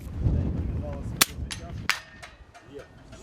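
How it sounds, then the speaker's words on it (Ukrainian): Two sharp, cracking gunshots ring out a second apart outdoors at target shooting practice during a Plast scouts' military training in Ternopil region, Ukraine, with murmuring voices and background noise between them. "До стрільби по мішенях готуються учасники першої групи."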